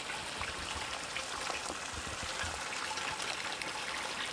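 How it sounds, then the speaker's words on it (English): Spring water trickles and splashes steadily into a tub outdoors in Andalucia, a constant close hiss of running water with no voices. "This is nature's finest water, the finest water on the planet, straight from the spring."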